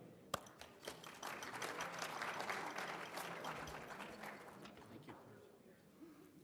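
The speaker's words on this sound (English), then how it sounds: "So a big round of applause, and let's welcome them up" A conference audience applauds in a sustained, dense wave of clapping that swells for several seconds and then tapers off, moderately loud in a large room.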